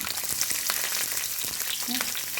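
Curry leaves, shallots and garlic fry in hot oil for a sardine roe dish, giving a close, bright crackling sizzle with scattered pops and no talking.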